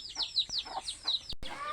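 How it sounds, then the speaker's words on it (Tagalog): Chickens on a quiet rural farm give a quick run of high, chirpy clucks, about seven close calls in a bouncing rhythm, ending with a short burst of fluttering noise. "ang ingay ng manok"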